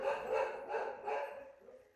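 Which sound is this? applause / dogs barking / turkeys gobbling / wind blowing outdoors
dogs barking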